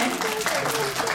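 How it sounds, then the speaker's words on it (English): Audience at a public library science show claps for two child volunteers, a brief dense burst of applause with a voice talking over it. "Can you guys clap for them, please?"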